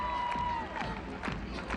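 A crowd of fans cheers and claps at a college women's gymnastics meet in an arena, a brief burst of roaring, clapping noise under a commentator's voice.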